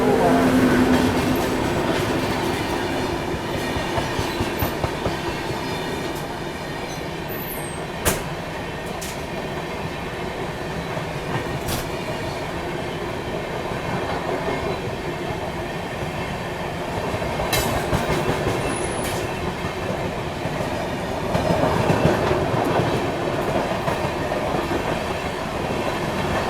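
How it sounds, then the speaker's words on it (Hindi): Vikramshila Express rolling through the Ghaziabad outer while changing tracks, with steady loud rumbling and clickety-clack wheel clatter over points and joints, continuous throughout and rising in a few places. "ट्रैक साउंड यहाँ देखो, ट्रैक्स चेंज करने का बड़ा ज़बरदस्त आता है गाज़ियाबाद के आउटर में।"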